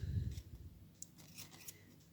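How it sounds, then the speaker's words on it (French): Scissors snipping through paper while a Christmas bauble is made by hand, a few sharp close cuts after a brief low thump, quiet and with no talking. "me revoilà avec mon autre paire de ciseaux"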